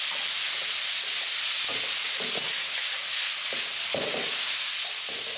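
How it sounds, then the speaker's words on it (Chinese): Rice noodles with dark soy sauce are stir-fried in a wok, a steady sizzling hiss broken by several scraping tosses of the spatula, close and with no talking. "先给它炒一炒，把那个酱香味炒出来了才加水"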